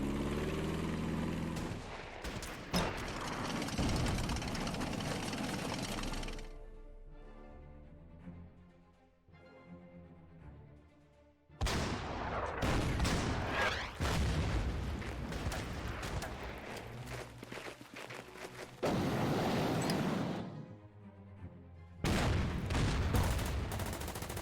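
Anti-tank guns firing in the World War Two strategy game Order of Battle, Donets Basin battle: dense, loud bursts of booming gunfire with rapid reports, easing into a quieter stretch midway before heavy volleys resume.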